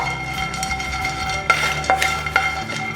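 Asafoetida frying in a pan while sambar powder is made, a steady soft sizzle with a spatula stirring and scraping in a few sharp metallic taps, with no talking.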